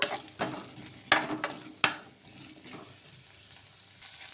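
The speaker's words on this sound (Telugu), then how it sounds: "కొంచెం నూనె అయితే వేసుకొని వీటిని మగ్గించుకోవాలి" Green chillies and onion sizzling in oil with a spoon clattering against the pan in a few sharp scrapes, then a softer steady frying hiss.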